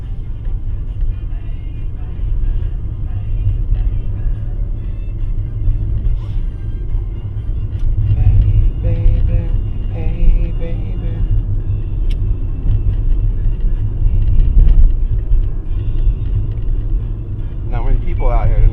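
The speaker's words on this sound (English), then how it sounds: "Driving down Main Street, USA here." A car driving at evening along the main street of a small historic town, its engine and road rumble steady and close throughout, with faint town sounds and occasional talk in the car.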